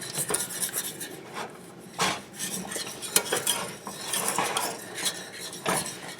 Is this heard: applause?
no